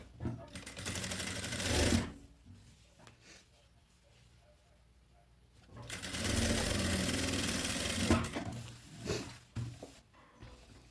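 A sewing machine stitching fabric for a child's overalls runs in two sustained loud bursts with a quieter pause between them, then stops, followed by a few short handling sounds.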